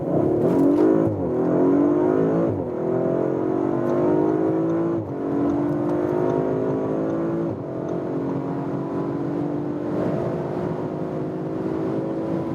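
An Audi RS5 Sportback in RS mode accelerates hard from 35 km/h, its engine note climbing steadily through several gear changes, loud and close throughout with a brief dip at each shift.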